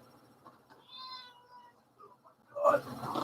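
A big pet tomcat gives a soft, drawn-out meow close by, followed by louder talking from a person nearby.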